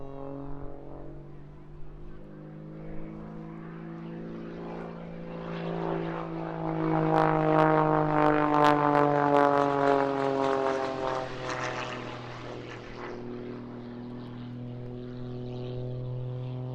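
An aerobatic propeller airplane flying at the Eastbourne airshow, its engine drone rising and falling in pitch as it passes, growing louder in the middle and then fading, with a commentator talking over it.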